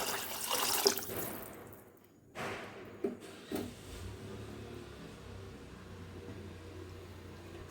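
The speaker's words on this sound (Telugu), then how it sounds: "నేను దీంట్లోకి 3 గ్లాస్ ఆఫ్ వాటర్ తీసుకుంటున్నాను" Three glasses of water poured into a cooking pot for rice rava, a close, brief splashing gush at the start that quickly fades into a quiet trickle and low background hum.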